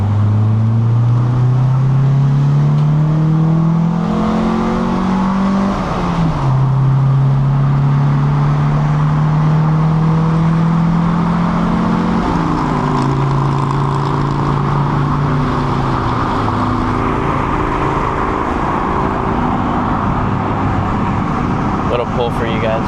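A 1990s car accelerating hard, its loud droning engine pitch climbing, dropping at gear changes, then climbing again over about twenty seconds.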